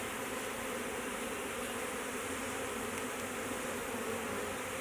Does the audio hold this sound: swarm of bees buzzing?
yes